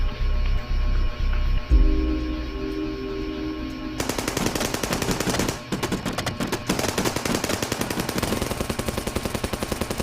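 Gunfire in a documentary soundtrack about the Fallen 44 operation: a few scattered loud bangs, then sustained rapid machine-gun bursts rattling densely and loudly for several seconds, with no talking.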